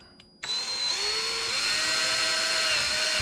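A power drill boring a hole while building an underwater viewer, a sudden high whine that starts abruptly and holds steady and loud, its pitch wavering slightly as the bit cuts, with no talking.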